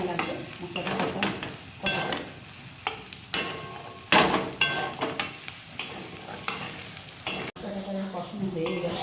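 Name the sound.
spices with chili powder and salt being sautéed and stirred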